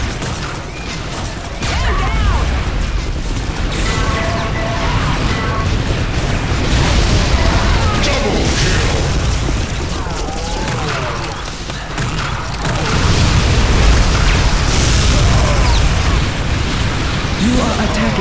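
Explosives blow up the command center in Unreal Tournament 2004, a dense run of booms, crashes and debris bursting amid constant loud game action with no pause.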